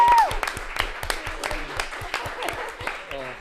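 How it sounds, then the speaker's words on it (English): An audience at a student union election results night claps briefly, with scattered hand claps rather than full ovation, under someone speaking over a microphone. "I think we should have a round of applause for that one."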